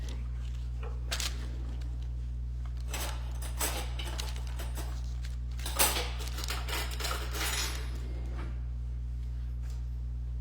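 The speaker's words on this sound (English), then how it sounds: "You get a couple of forks going here." Forks clink against a plate holding a slice of French apple tart, a few light scattered taps and scrapes over a steady low hum, fairly close and quiet.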